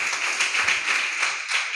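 A congregation in a prayer hall at Sunday worship claps in unison, a steady, fairly quick rhythm of bright hand claps filling the room with no voices.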